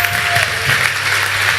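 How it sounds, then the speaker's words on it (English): An audience at the Big Omaha 2013 conference gives sustained, loud applause, a dense wash of clapping that holds steady across the short stretch, with faint crowd sounds beneath. "can we give her a nice round of applause"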